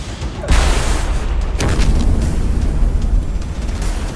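A loud, sustained rumbling special-effect explosion for a TV series, with broadband roar, swelling around the half-second mark and continuing as a dense, crackling boom with no voices.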